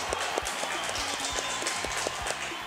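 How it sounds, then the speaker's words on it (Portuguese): Studio audience applauding to welcome a guest gynecologist on a morning talk show: a dense, continuous wash of clapping, with soft rhythmic low thumps underneath. "Cadê os aplausos da nossa doutora de hoje?"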